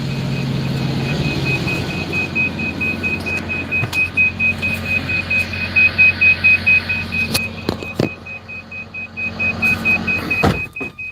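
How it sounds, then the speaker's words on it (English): A truck's alarm beeps steadily as a high repeating tone over a low idling engine hum, with clunks and a few sharp knocks near the end and no voices. "we got an alarm going off"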